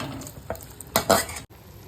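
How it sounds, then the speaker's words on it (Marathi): Half-fried onions and capsicum go into green peas in a pan, giving soft stirring scrapes and a brief sizzle, with a couple of louder bursts of frying midway before it settles quietly. "हाफ फ्राय केलेले कांदे आणि शिमला आपण वाटणामध्ये टाकू"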